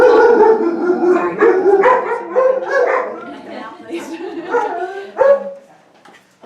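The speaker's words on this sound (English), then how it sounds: "that was my dog. Those were my dogs." Several dogs bark, yip and howl close by indoors in a loud, overlapping burst, with a voice briefly speaking over them before they taper off.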